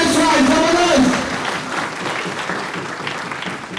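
Loud crowd applause for judges and chief guests at a motivational speaking event, dense clapping that starts under a voice and then carries on alone, easing slightly in volume.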